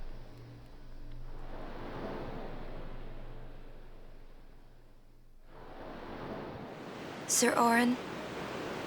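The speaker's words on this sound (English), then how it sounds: "Like a seashell, he can hear the ocean." Ocean surf rolls in the Final Fantasy X game world as a broad, steady wash of noise that fades briefly and swells back, with a short burst of speech near the end.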